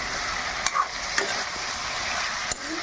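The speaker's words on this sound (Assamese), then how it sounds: "অলপ লৰাই দিব লাগিব ধুনীয়াকৈ।" Mutton curry sizzles and fries in a pan while it is stirred, a steady close hiss broken by three faint scrapes of the spoon.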